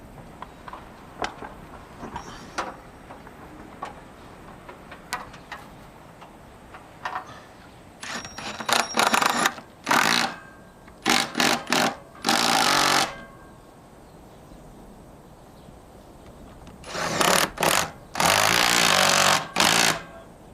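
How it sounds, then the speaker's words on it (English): Impact driver fitted with a socket attachment, fired in several loud close bursts of rapid hammering rattle separated by pauses, over quiet outdoor background with no talk. "is use an impact driver. And I've got a socket set attachment on the end."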